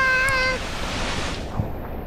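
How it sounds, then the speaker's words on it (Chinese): Heavy rain falls at Siam Park City water park in Bangkok as a dense, steady rush of noise, with a short tonal cry over it in the first half-second. "好大雨"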